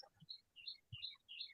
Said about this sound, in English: It's birds today.